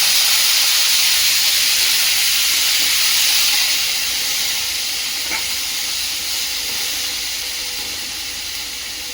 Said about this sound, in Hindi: अब 1 प्याज ग्राइंड करके डाल देते हैं।